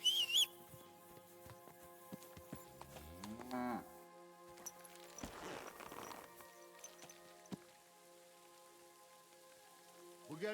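A milk cow lowing in the Kingdom Come Deliverance 2 video game, a low drawn-out moo around the fourth and sixth seconds over a faint steady rain-like hiss, with no talking.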